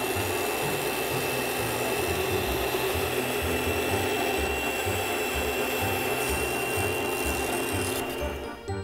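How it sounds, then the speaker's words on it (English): A Gemini Taurus 3 ring saw grinds steadily as its ring blade cuts a pattern, a continuous close buzzing rasp with a low, rhythmic pulsing hum beneath, tapering off at the very end. "the ring blade grinds as it cuts"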